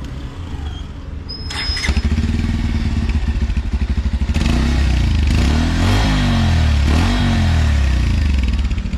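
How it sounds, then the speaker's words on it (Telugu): A Bajaj Pulsar N150 motorcycle engine starts with a clatter and settles into a loud, steady idle, its rhythmic thumping beat close by, with a few throttle blips. "ఇప్పుడు పల్సర్ 150 బీటింగ్ మనం చూద్దాం."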